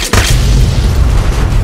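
A single loud, close explosion in Fallout 3 hits sharply and then rolls on as a deep, heavy rumble.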